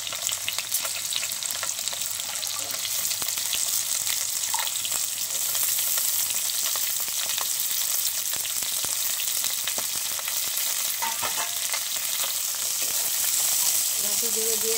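Taro leaf stems frying in a pan with black cumin, garlic and chilli, giving a steady, dense sizzle and crackle throughout, with faint scraping as they are stirred.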